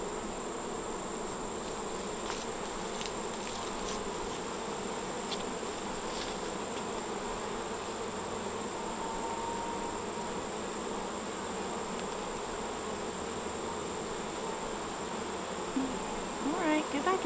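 Honeybees buzz steadily around an open hive during an inspection, a close, continuous droning hum with faint handling noises mixed in.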